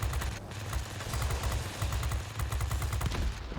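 Machine gun fire from an I-15bis fighter in the World of Warplanes game, a rapid continuous rattle of shots over steady engine drone, moderately loud.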